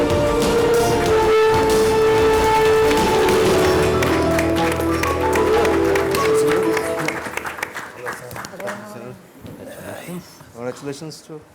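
Audience applause greets a guest walking on stage at a Shark Tank India season 4 event, loud and continuous with music for about seven seconds, then fading as people begin talking.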